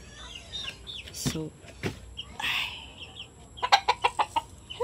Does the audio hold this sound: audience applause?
no